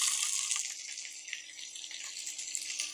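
Dried lotia shutki added to hot oil in a pan, frying with a steady, bright hiss and sizzle that holds evenly throughout at close range, with no talking.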